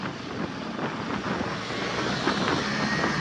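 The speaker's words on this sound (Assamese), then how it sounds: "মই বাইক চলাই আছোঁ" A roughly 400cc motorcycle on a group Independence Day ride, heard from the rider's seat as a steady, continuous roar of engine and rushing wind with no voices.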